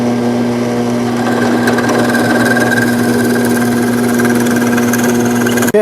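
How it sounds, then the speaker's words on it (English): A drill bores a diagonal hole in a wooden part for a Shaker-style work table, giving a steady, close motor whine with a constant tonal hum that runs without pause and cuts off abruptly at the end. "I got that hole drilled in there"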